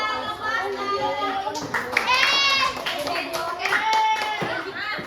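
Children in a classroom clap for a classmate, a steady burst of many small hands under a voice and children's chatter.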